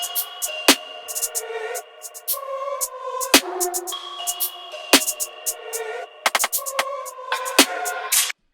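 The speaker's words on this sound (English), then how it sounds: "the last drum we're going to add in here is kind of like a snare sort of a roll sound," In a dark drill beat, a snare roll with a rim-like crack plays over a sustained synth bed, with sharp hits spaced out and then clustered into quick bursts near the end, loud and without speech.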